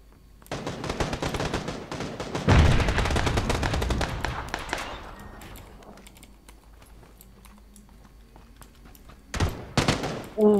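SKS rifle fire in the PUBG video game comes as a dense, rapid burst of sharp shots, followed by a quieter lull and a few more close bursts at the end.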